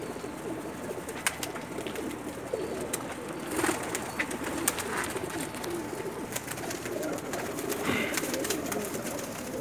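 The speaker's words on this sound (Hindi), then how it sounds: "जी दोस्तों, कैसे लगे आपको लाखे कबूतर जी?" Lakha pigeons of a Lahore breed coo softly amid a busy loft hum, low murmuring calls with occasional wing flutters and rustles, fairly faint and continuous.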